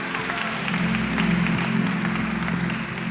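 A church congregation applauds to praise God during a service, dense steady clapping from many hands that swells in the middle and eases slightly toward the end, with a low background hum under it.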